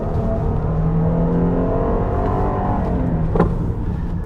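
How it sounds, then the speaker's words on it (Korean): A Jeep Grand Cherokee L with a 286-horsepower engine revs in sport mode, a steady loud engine drone from inside the cabin holding for several seconds, with a short sharp spike near the end. "스포츠 모드로 해놓고 조금만 밟아봐도"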